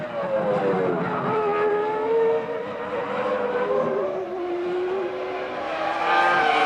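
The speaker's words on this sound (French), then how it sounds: "La Ferrari passe en tête de la course." A Ferrari Formula 1 race car from the 1998 season passing, its high engine whine rising and falling through gear changes, fairly loud against trackside crowd noise.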